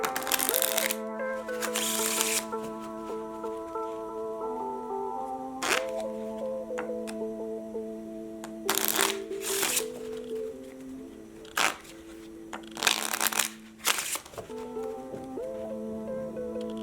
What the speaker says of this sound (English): Now I turn the cards over and do a riffle shuffle